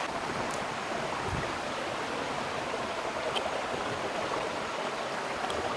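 Stream water flowing near a hidden waterfall in Yala, a steady soft rushing wash with no breaks, moderately faint and without talk.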